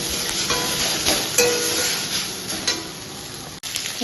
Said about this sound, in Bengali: এখানে মাথা ভাজা হচ্ছে ইলিশ মাছটা